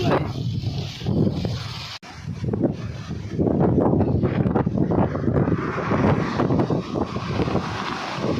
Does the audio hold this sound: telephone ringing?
no